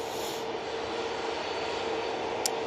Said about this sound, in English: This one will be going to Frankfurt, using the 321-200 for this flight.